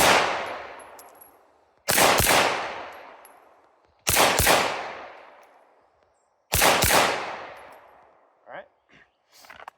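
Handgun shots fired in a doubles drill, three pairs of loud, close reports spaced about two seconds apart, each pair ringing and decaying, followed by faint clinks.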